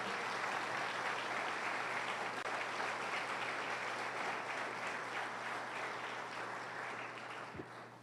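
A church congregation applauds during a sermon, many hands clapping in a dense, sustained patter that stays steady for several seconds before tapering slightly, heard from within the room.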